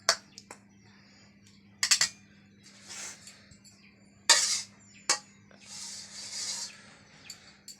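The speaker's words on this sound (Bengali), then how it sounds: "এই যে তরকারি নাড়ানো হচ্ছে" A curry is stirred in a cooking pot, giving intermittent metallic scrapes and clinks of a spoon against the pot, some sharp and close, over a low steady hum.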